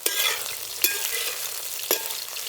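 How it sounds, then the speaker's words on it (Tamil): Eggplant pieces sizzle and fry in hot oil, a steady crackling hiss broken by three sharp scraping stirs, close and clear with no voices. "கத்திரிக்காவை எண்ணெயில் போட்டு வதக்கி எடுத்தாச்சுங்க."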